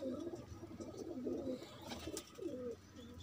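Pigeons coo nearby in soft, throaty rolling calls that repeat several times over steady background noise.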